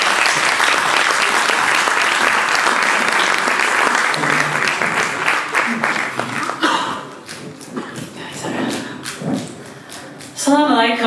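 An audience at a Pakistan Independence Day gathering in Dundee applauds to welcome a speaker: loud, dense clapping that thins into scattered claps with murmuring and a voice near the end.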